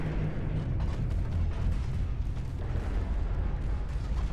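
A torpedo strikes a warship in Ultimate Admiral Dreadnoughts, giving a deep, rumbling naval explosion with a heavy low-end roar that persists steadily for several seconds at moderate distance.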